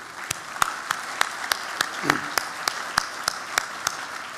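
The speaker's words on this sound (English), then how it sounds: "So I'd like to give them a big round of applause for all they did." Audience applause at a chamber of commerce annual dinner, a steady patter of clapping with distinct sharp claps recurring at a regular beat, and a brief voice partway through.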